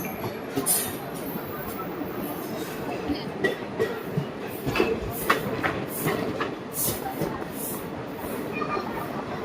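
The Santragachi Digha Fast Passenger train running past Kolaghat station without stopping, heard from inside as a steady clickety-clack of wheels over rail joints with a constant rolling rumble.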